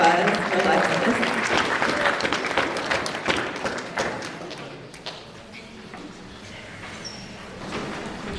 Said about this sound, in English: So we can give her a round of applause for Alexis.